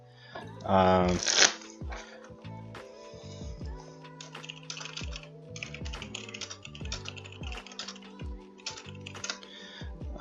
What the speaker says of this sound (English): Doing some shuffles down here. Get this new deck all mixed up